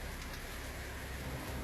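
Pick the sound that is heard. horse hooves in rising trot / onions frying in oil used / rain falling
rain falling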